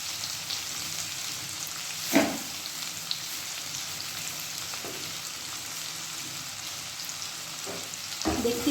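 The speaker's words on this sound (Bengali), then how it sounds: "অল্প একটুখানি পেঁয়াজটাকে ভেজে নেবো" Onions fry lightly in a pan for dragon chicken, a soft, steady sizzle with a few sharp knocks and scrapes of a utensil against the pan.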